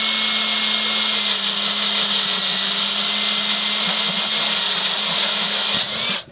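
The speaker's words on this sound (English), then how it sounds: "especially when you're using a cordless drill" Cordless drill boring a hole into irrigation pipe, a steady loud whirring whine with a constant motor tone that runs nearly unbroken, then spins down abruptly at the end.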